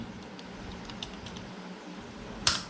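Someone types on a computer keyboard, a run of soft, quick key taps ending in one sharper keystroke, nearby with no talk.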